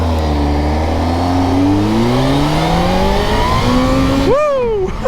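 A motorcycle accelerating hard with traction control off, its front wheel lifting: a loud engine note rising through several gear changes, each pitch climb dropping back at the shift, then a sharp rev flare and cut near the end, heard close up.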